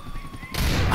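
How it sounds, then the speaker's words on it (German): In GTA 4, a gunshot hits a gas tank and sets off a sudden loud burst that cuts in after half a second of quieter game sound and talk, then holds as a broad, sustained roar. "Einfach schießen. Einmal einen Schuss drauf."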